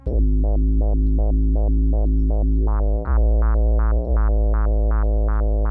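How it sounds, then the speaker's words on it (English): A buzzy synth bass line from a Boss RC-505 loop station, chopped into even rhythmic steps by a step rate filter, pulsing steadily and loudly, brightening partway through. "A step rate filter would sound like this."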